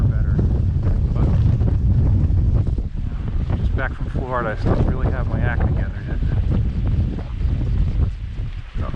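Strong wind buffets the microphone on a fishing boat, with a heavy, gusting low rumble throughout while someone talks over it.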